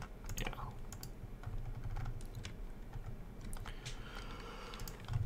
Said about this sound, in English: I'm not even close to typing Khris Middleton's name right.